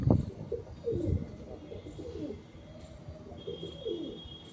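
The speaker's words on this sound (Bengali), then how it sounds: "দেখো পায়রা দেখো।" Pigeons of Fulsira, Kalanka and Madrasi breeds kept as pairs at home, giving low, throaty coos in soft repeated bursts nearby, fairly quiet, with a brief thin chirp and faint background noise.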